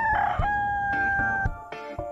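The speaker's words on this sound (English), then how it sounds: "Rooster make a cock-a-doodle-doo sound." A rooster gives a clear, loud cock-a-doodle-doo, heard alone with a brief second call starting near the end.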